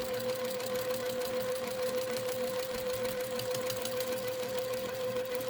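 A domestic sewing machine runs steadily while straight-line quilting through a quilt and batting, giving a fast, continuous mechanical whir with a constant hum. It is close and loud and plays alone, with no talk.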